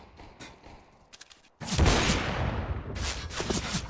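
Gunfire in a Counter-Strike esports match at the WePlay Academy League: quiet shots at first, then a loud, dense burst of rapid fire that carries on, with a second loud cluster near the end.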